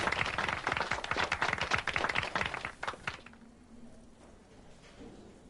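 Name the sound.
lazy applause in a room, from video game Disco Elysium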